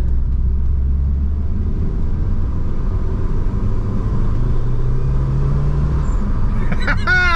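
A 1997 Eagle Talon TSi turbo car drives along with a steady low engine rumble and road drone throughout, fairly loud and continuous, with a brief sharper sound near the end.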